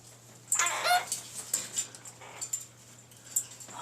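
A pet bird calling, a series of sharp chirps and squawks in quick bursts, close and moderately loud against a quiet indoor room hum.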